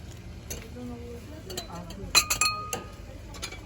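Glass cups clinking as they are handled on store shelves at an A101 discount market, several bright, sharp chimes clustered in quick succession, close up, with a person talking over them.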